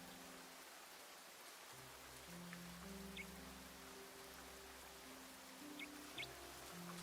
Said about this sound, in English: We've got our rain.